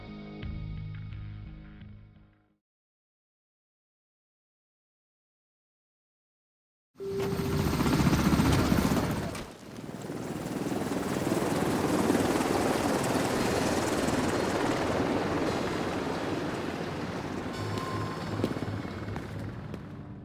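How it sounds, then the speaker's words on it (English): A helicopter flies in The Division 2 video game, its loud rotor drone running almost without break after a short faint stretch and a silent gap. "The agents waste no time and jump into a helicopter destined for the site."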